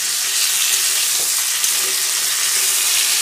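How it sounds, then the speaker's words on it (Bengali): Meat browning in a small amount of oil gives a steady, close sizzle: an even, dense crackling hiss that holds at a constant level throughout, with no voices. "দেখো মাংসটা হালকা হালকা ভাজা হয়ে গেছে।"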